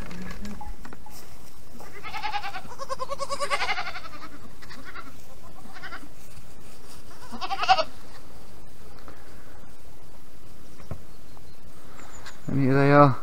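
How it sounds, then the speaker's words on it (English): Goats bleating on a Portugal farm, a mother with her newborn kid, with several harmonic bleats early on, another around the middle and a louder close call near the end over a quiet background. "totally different goat."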